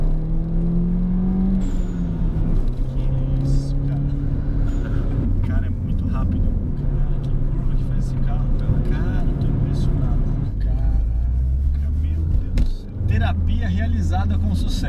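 Inside a Mini Cooper JCW 1.6 manual in sport mode on a small road, the engine drones and rises steadily through acceleration, loud and continuous, with people talking over it throughout.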